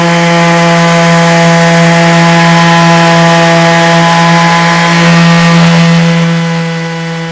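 DeWALT and Makita cordless orbital sanders running on wood, giving a loud, steady motor whine with a strong constant hum and grinding rasp that holds evenly before easing slightly at the end; no talking.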